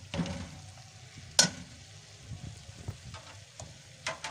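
Peas being stirred and fried in a pan for mixed vegetable sabzi, a low steady sizzle with soft scraping strokes and one sharp utensil clack near the start.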